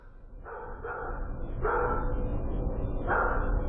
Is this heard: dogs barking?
yes